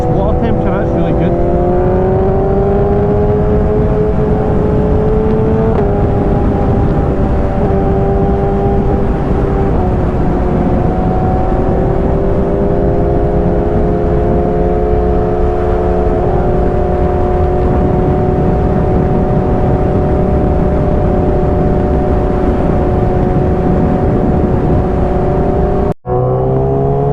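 A Suzuki GSX-S 1000 motorcycle cruises along a scenic road with a steady, near engine drone, gradual pitch shifts and wind rush, as a rider talks over it now and then.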